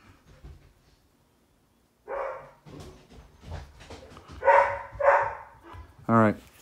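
A dog barks loudly at someone at the front door of a house, with several sharp bursts of barking spaced across the moment and a person talking nearby between them.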